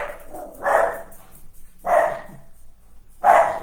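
Dogs let out three loud, separate barks at roughly even intervals, with quiet gaps between them and nobody talking.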